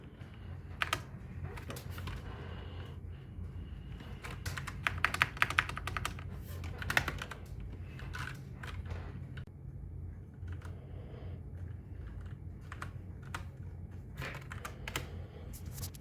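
Steady typing on a computer keyboard, close and fairly quiet, with irregular clusters of key clicks running throughout and a few louder taps, no speech.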